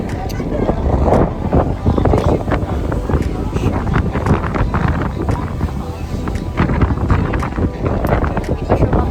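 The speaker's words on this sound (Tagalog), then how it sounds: "Lakas ng hangin." Strong wind buffets the microphone on a boat off Boracay, a constant rough roar with gusty peaks and a low rumbling undertone.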